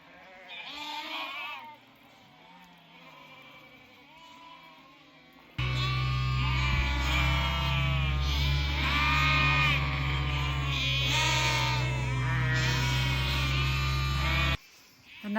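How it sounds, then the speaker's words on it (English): Sheep and lambs bleat in a field, with several overlapping calls near and far. A loud, steady electric buzz joins partway through and runs under the bleating before cutting off near the end. "focus solely on treating lame lambs"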